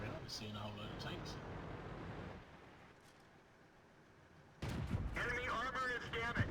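Tank cannon fire and shell impacts in the World of Tanks video game, with a Skoda T25 Czech medium in combat: sharp booming blasts come at the start and again after a quieter stretch, mixed with game noise and voice chatter.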